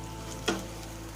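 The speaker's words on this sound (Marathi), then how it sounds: "आणि हे फ्राय व्यवस्थित मिक्स करून घेऊया" Red spice masala and salt frying in a pan for a drumstick (shevga) vegetable curry, a steady low sizzle with one brief scrape of stirring midway, close and fairly quiet, no talk.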